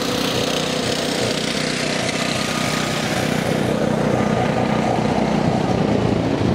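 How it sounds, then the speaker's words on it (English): A tractor driving by on a road near Bratislava, a loud, steady engine drone that holds close throughout with no talking. "I guess life isn't peaceful when some guy drives by on a tractor."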